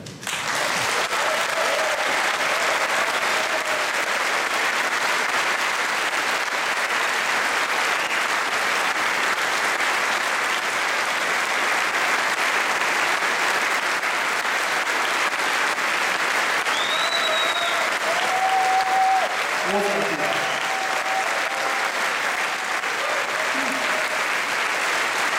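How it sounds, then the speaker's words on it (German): A festival audience at Moers Festival applauds in a dense, sustained wash of clapping for the full stretch. Faint whoops and voices rise briefly within it. "jetzt habt ihr aber auch genug Applaus"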